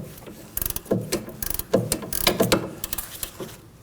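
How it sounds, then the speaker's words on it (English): Ratcheting wrench breaking loose a 15mm sway bar link fastener on a 2014-2023 Ford Transit Connect, with close, loud bursts of rapid clicking strokes separated by short pauses. "I'll be using a ratcheting wrench instead"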